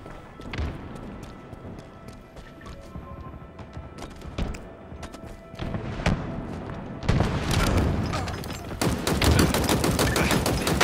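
Halo Infinite gunfire in a multiplayer match: repeated sharp shots and bursts with heavy thuds, sparse at first, then denser and louder automatic fire with booms toward the end.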